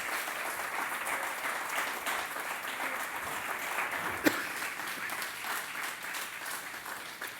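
A church congregation gives the Lord an offering of applause, a sustained wash of clapping lasting several seconds at moderate distance, with one sharp louder clap partway through.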